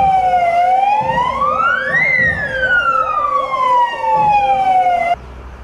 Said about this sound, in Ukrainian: В пам'ять про загиблих рятувальників лунали пожежні сирени